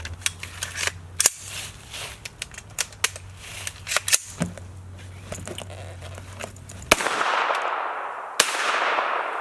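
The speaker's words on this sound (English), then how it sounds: "Can you hear me hitting that steel?" Troy A4 rifle shots with sharp cracks and faint metallic pings off a steel target, scattered irregularly over a steady background hum, followed by a louder blast and a rushing wash of noise.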